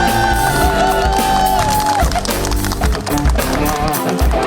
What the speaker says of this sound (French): un tonnerre d'applaudissements pour Roshi Bada